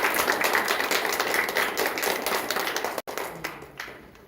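Congregation clapping together during a Sunday worship service at a Korean church, a steady dense patter of many hands filling the room, briefly cut off near the end before resuming more softly.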